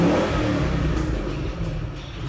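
A Ford Mustang V8 revs hard nearby, a loud deep growl that swells at the start and then holds in a rumbling drone.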